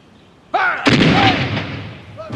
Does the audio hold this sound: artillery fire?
yes